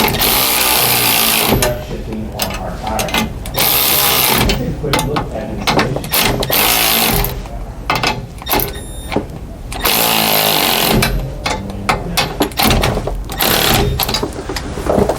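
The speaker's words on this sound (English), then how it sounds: "we're going to finish tightening these U-bolts up" U-bolts being tightened on a Roadmaster Reflex steering stabilizer bracket on a 2020 Thor Outlaw motorhome, a loud, repeated mechanical ratcheting in bursts with short pauses between strokes, up close and without talk.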